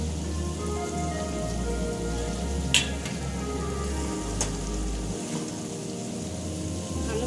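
Tomato and pumpkin sizzle steadily after being added to spices frying in a pan, a dense continuous hiss with a couple of brief sharp crackles, fairly quiet and without talk.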